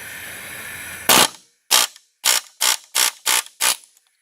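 An old rear trailing arm bushing pressed out of a 1998 Toyota Camry: a steady hum, then seven loud, close ratcheting mechanical bursts in a quick, even sequence, separated by short silences.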